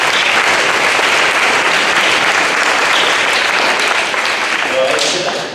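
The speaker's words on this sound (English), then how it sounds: "let's give these guys a round of applause" At a high school football banquet, the audience applauds, a dense, loud burst of clapping right from the start that holds steady and then tapers off at the end.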